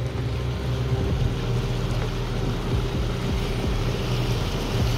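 A boat motors fast over choppy sea waves, its engine a steady loud drone with wind and water rushing alongside, no voices.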